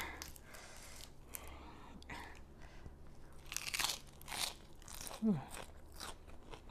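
Fresh crisp raw vegetables crunched and chewed alongside a fresh nham fermented pork salad with ginger, a series of close, crisp bites and mouth sounds at moderate volume, with faint voice traces.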